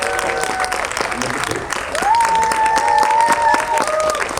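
Applause and cheering from a cinema audience at a film Q&A at Megabox COEX, welcoming director Jung Ji-young to the stage. The clapping is loud and steady, with a swell of crowd noise running through to the end.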